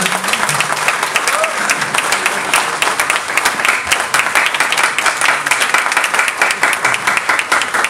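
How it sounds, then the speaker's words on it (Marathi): Loud, dense applause from a large crowd for the president of the Pune Family Court Lawyers Association at an association election event, steady and sustained throughout, with faint voices underneath. "जोरदार टाळ्या वाजवा"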